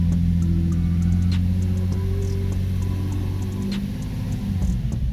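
A car engine with a fault under investigation is held at a light, steady rev around 2000 rpm, giving a continuous close rumble with faint ticking and no talk.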